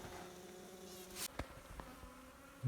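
Bees buzz faintly around log hives outdoors on a cool day, a thin hum broken by a few sharp knocks and scrapes.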